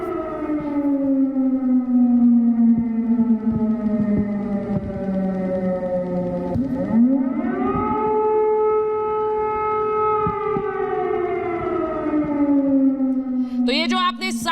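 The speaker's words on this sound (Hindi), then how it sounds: "ये एरियल सायरन बजाया गया है पूरे कीव शहर में" Air raid siren wailing across Kyiv during an alert for possible air attack, a loud sustained tone that slowly falls, climbs again and sinks, with a brief rougher burst right at the end.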